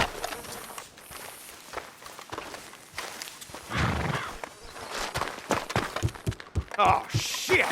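Horses in the video game Red Dead Redemption 2, with soft hoof steps and shuffling in an open setting, broken by louder thuds and bursts of noise, while characters talk over parts of it.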